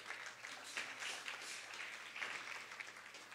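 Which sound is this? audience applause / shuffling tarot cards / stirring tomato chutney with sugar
audience applause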